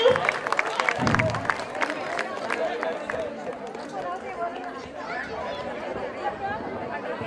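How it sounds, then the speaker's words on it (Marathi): Crowd clapping at a bhajan group gathering at a Dwarkadhish temple, a burst of applause under loud overlapping chatter that settles into a murmur of voices. "जोरात टाळ्या वाजवा सगळ्यांनी."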